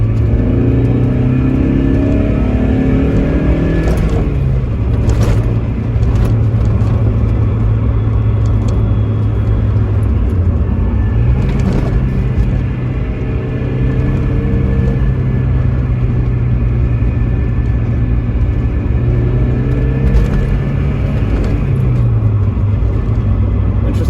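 A 1989 Mazda MX-5 is heard from inside as it drives on the road, its engine droning loudly and climbing in pitch through several gear changes, with brief wind and road noise and no speech.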